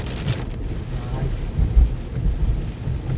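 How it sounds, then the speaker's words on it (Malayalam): Strong storm wind gusts through a rural village area in rain, a low, continuous rumbling buffet that swells and eases with no one speaking. "ഭയങ്കര കാറ്റാണ്."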